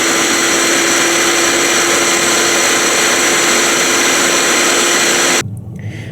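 An airless paint sprayer pump drones loudly and steadily with a constant hum, then cuts off abruptly near the end, leaving a quieter rumble.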